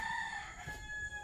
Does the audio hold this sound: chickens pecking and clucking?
yes